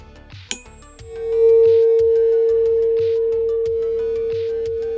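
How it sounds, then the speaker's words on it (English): A single sustained pure tone from Beethoven's own tuning fork rings steadily and slowly fades, heard after a few soft tonal plinks and a brief sharp click, close and fairly loud with no speech. "what you're hearing there is Beethoven's own tuning fork, which is oscillating at a consistent frequency"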